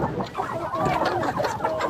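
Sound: chickens clucking in a poultry yard

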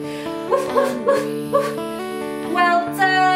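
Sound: children imitating a dog barking

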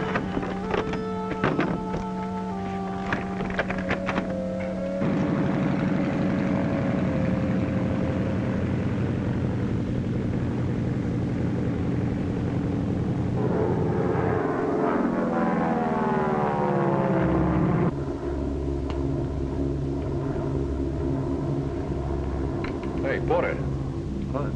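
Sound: charter airplane engine in flight

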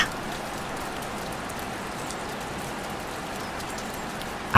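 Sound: rain falling

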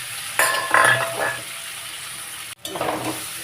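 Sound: papaya and potato sautéed with spices in pan

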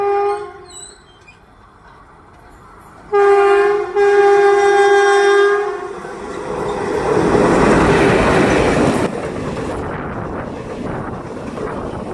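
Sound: Thrissur–Kannur Express passenger train with WP4 locomotive arriving

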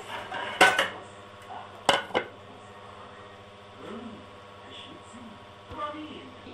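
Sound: knife cutting basbousa (semolina cake) in a baking pan

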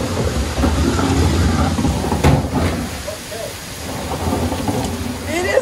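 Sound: thunderstorm with rain

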